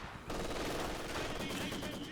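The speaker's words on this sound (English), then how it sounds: "MG opening fire" Sustained machine gun fire in the Company of Heroes video game, a dense continuous rattle starting after a brief lead-in and filling the whole stretch, with a voice faintly underneath.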